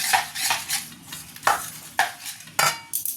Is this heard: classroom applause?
no